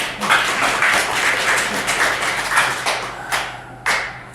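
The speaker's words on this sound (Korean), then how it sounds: "박수 한번 주세요." Church congregation clapping during a Sunday worship sermon, a lively, fairly loud burst of many hands with some individual sharp claps standing out before it thins toward the end.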